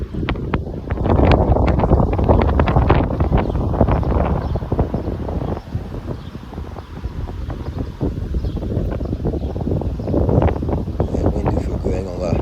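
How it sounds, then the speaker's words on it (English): Steady outdoor wind buffets the microphone with a continuous low rumble and gusty rustling for the whole stretch, loud and close, while people talk over it. "That wind do feel good, I ain't gonna lie."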